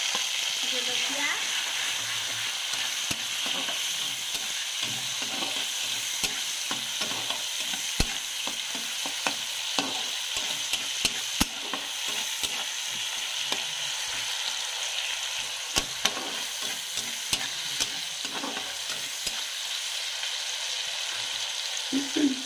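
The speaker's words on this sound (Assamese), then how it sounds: "একেলগে এতিয়া গোটেইখিনি ভাজিম।" Vegetables for an egg curry frying in hot oil with cumin, tomato, chilli and ginger-garlic paste, making a continuous soft sizzle broken by frequent sharp clicks and scrapes of a spoon stirring the pan.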